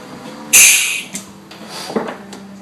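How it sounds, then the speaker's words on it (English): An air compressor running on a low setting blows air through a small motorcycle carburetor part while it is being cleaned, giving one loud hissing burst of about half a second followed by fainter puffs and a low steady hum. "I have this air compressor. If it sounds like it's running really low, it's because it is."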